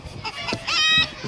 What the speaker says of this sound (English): Tornado, the buff leghorn rooster. He's a little upset that he's in the show cage.